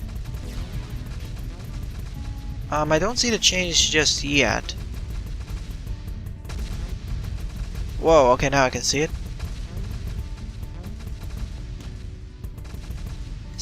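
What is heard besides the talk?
rocket launcher explosions in video game Cally's Trials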